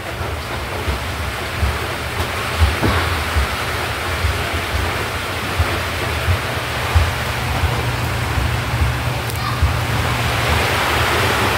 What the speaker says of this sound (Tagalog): Yan, ulan na naman.